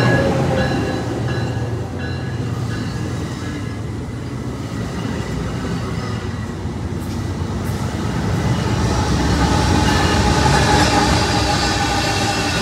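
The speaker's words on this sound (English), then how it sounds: "another freight train. This one is Canadian National, CN." A Canadian National freight train passing at a station in Dorval, a loud continuous rumble of rolling railcars with rhythmic wheel clatter and faint metallic squeals, swelling louder toward the end.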